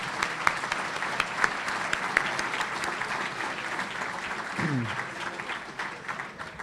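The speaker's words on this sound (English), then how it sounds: "Let's give them a round of applause." Sustained applause from an audience at a county State of the County presentation, steady dense clapping running throughout at moderate volume, with a brief voice-like sound partway through.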